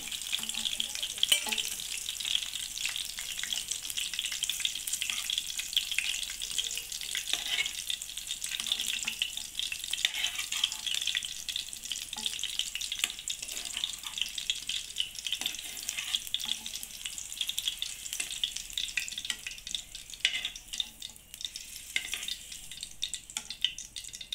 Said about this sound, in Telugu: ఈ పచ్చిమిరపకాయలు బాగా వేపుకోవాలండి